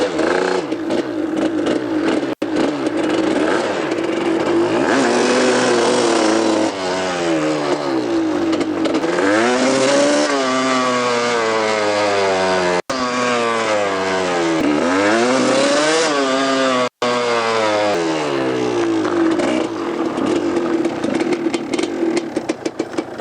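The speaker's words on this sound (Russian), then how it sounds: "Холостой ход мотоцикл также держит, на колесо подрывает." Suzuki TS200 two-stroke motorcycle being ridden in a small loop, its engine loud and close, revving up and dropping back repeatedly with rising and falling pitch, no voices over it.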